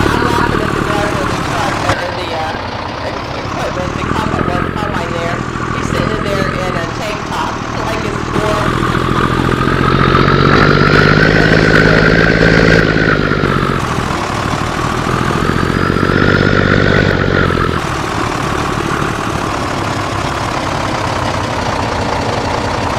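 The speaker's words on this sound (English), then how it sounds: "This is my Peterbilt truck." A loud Peterbilt truck engine runs on a farm, a deep throbbing diesel rumble that swells and eases as the revs rise and fall, close and continuous throughout.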